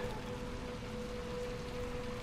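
Steady, soft rain falls in a video game, a faint even patter and hiss with a low hum underneath, heard alone without talk.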